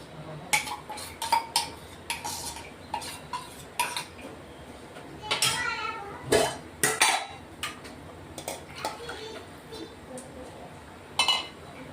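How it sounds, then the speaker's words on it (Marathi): Ground chickpeas are added to a pot of vegetable curry and stirred in, with repeated metal clinks and scrapes of a spoon against the pot, fairly quiet, under intermittent speech. "हे चणे वाटलेले हे आपण आता या भाजीत मिक्स करणार आहे"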